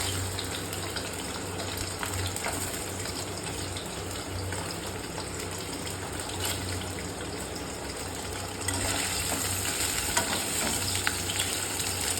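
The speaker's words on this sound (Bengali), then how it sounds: "এরপর আমি পনিরগুলোকে হালকা ফ্রাই করে নেব।" Paneer pieces fry lightly in a pan with a steady, close, dense sizzle and crackle that continues unbroken throughout, with faint stirring scrapes beneath and no voices.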